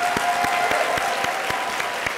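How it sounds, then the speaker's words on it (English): Audience applauding teachers at an evening awards dinner for an education foundation, a steady, dense wash of clapping from a large room with a few sharper individual claps standing out, sustained throughout with no talking. "join me in a round of applause for all of the teachers in the room this evening"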